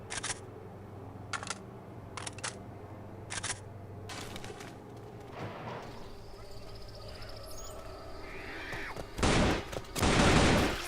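AK47 Crossfire mod in Left 4 Dead 2, firing a few short sharp bursts spaced apart, then heavier, louder blasts near the end over a constant in-game ambient drone.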